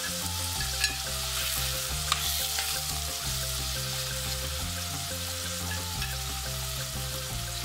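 Tomato and ginger sautéing in a pan, a steady close sizzle with a couple of faint utensil clicks as it is stirred.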